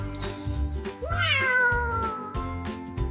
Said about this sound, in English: It's a cat.